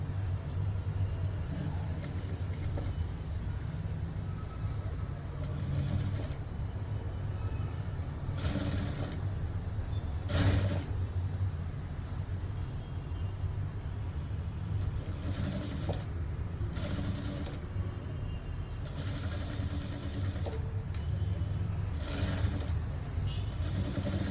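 Electric sewing machine stitching thread piping onto a blouse, a steady close mechanical whir with repeated short bursts of faster, sharper running.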